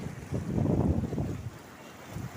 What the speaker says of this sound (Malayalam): അതായത് കണ്ടോ, തൊട്ട് താഴെ കടലാണ്.